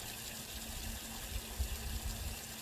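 Water from a newly dug well gushes steadily from a pump outlet, a continuous low rushing flow, fairly faint and alone without talk.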